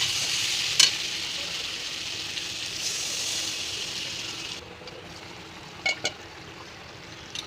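Potato curry frying in oil with spices, a constant sizzle that softens partway through as water goes into the pan, with a few clinks of a spoon stirring close by.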